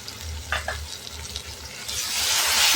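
Curd sautéed in a pan with corn kheema, a crackling sizzle with stirring scrapes, the hiss swelling louder toward the end, close and continuous without speech.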